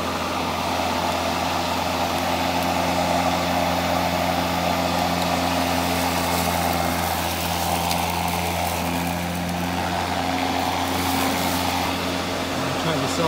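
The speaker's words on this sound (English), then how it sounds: "Sounds pretty much just like a loud fan, much quieter than the gas mower." An EGO LM2135SP dual-blade electric lawn mower runs with a steady, loud, fan-like whir that holds constant throughout, close by.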